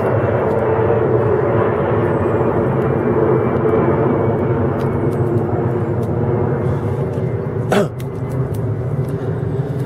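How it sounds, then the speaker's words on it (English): A fixed-wing airplane passes high over an autumn allotment, a steady broad droning roar that holds for the whole stretch with little change, alone apart from a brief thump near the end. "I just wait for this plane to go across."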